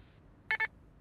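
Answering machine beep in a French cartoon: two short, bright electronic tones in quick succession over a quiet background, with no voices during the beeps.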